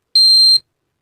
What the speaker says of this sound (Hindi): इसमें जो बजर लगा हुआ है वो एक बार बीप की आवाज़ आएगी